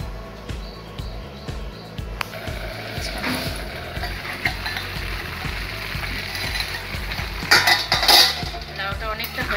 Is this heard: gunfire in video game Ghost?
no